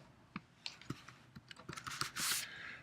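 Close, quiet typing on a computer keyboard: a scattered run of light key clicks, quickening toward the end and finishing in a short burst of rustling.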